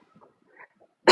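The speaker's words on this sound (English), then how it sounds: "That was a cough." A single short, sharp cough from someone with a chest illness bursts out at the end after a few quiet murmurs.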